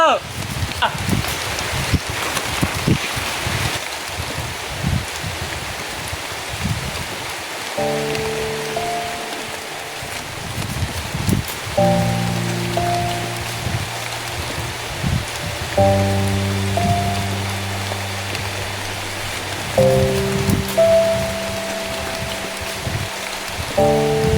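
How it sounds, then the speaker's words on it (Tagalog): Steady rain hisses in the background while a tonal melody plays intermittently and voices can be heard. "Umuulan na!"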